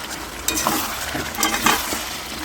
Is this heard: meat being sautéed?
yes